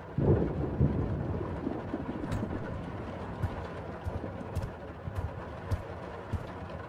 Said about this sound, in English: I should check the radio for an update on the storm